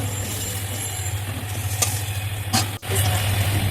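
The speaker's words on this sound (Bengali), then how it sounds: "এবার আলুগুলো বেশ ভালো করে ভেজে লাল লাল করে" Potatoes frying in oil in a wok give a steady, close sizzle with soft crackle, briefly interrupted by a short dropout before the frying noise resumes.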